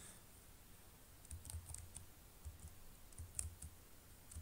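Mouse clicks and keystrokes on a computer keyboard, a sparse series of soft taps and clicks in short clusters over a quiet room background.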